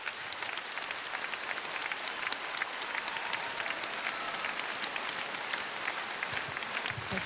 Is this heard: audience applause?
yes